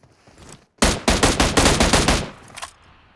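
Rapid automatic gunfire from shooting a bot in PUBG Mobile: a sharp burst of about a dozen evenly spaced shots, loud and close, followed by a few quieter trailing shots.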